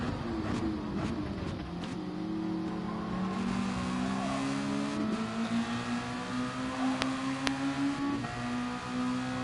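Race car engine in Gran Turismo Sport on PS4, during a Nations Cup online race, droning steadily with rising and falling tones as a lapping car passes.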